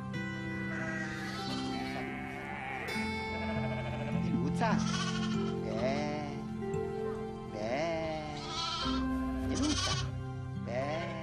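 Sheep bleat repeatedly with wavering cries over a sustained background of music or drone, several calls spread across the clip, in a Carpathian shepherding setting.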